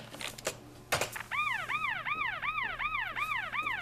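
A police car siren plays back as a recording, a repeating rising-and-falling wail in regular cycles, preceded by a few sharp clicks and bumps.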